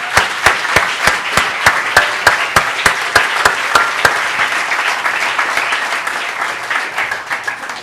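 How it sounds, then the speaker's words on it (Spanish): Congregation applause at a Spanish-language church service, a steady burst of dense clapping that opens with sharp, evenly spaced claps, then thickens into a continuous wash and tapers slightly toward the end. "Démosle un aplauso al Señor, hermano."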